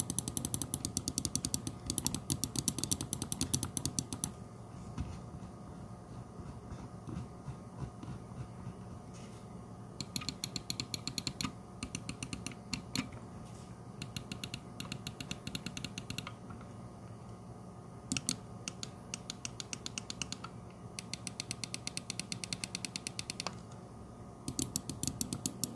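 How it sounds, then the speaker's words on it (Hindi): Rapid bursts of small plastic clicks from a Redragon M808 Storm lightweight honeycomb-shell gaming mouse, coming in clustered runs with short pauses, close and fairly quiet over a faint steady hum. "अब इस माउस के क्लिक्स का साउंड टेस्ट करते हैं, तो वो कुछ यूं है।"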